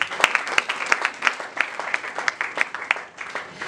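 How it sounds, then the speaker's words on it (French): A church congregation applauds for the Lord, with a handful of people clapping in a loose, uneven rhythm, fairly close and moderate in volume, with faint murmuring in the background. "Acclamons pour le Seigneur."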